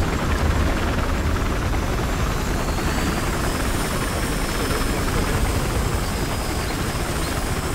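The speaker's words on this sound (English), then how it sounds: "Chopper will be up in like 20 seconds." Helicopter in the video game Battlefield Hardline, a continuous loud rotor and engine drone with steady low thumping and a faint high whine, unchanging throughout and heard alone.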